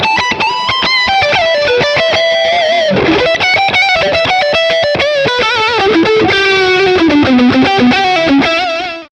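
Electric guitar through a Boss Katana amp with delay and reverb added, playing a distorted, effects-laden melodic line that rings on continuously and loudly with echoing repeats and no talking.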